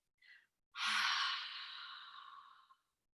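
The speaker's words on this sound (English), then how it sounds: "So cleansing breath, each exhale" A short in-breath is followed by a long, breathy exhale during a yoga cleansing breath, heard close and alone, fading gently over about two seconds.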